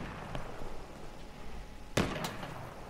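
A single sharp sniper rifle crack from the video game Battlefield 1 rings out against a low battlefield rumble, preceded by a fainter distant shot.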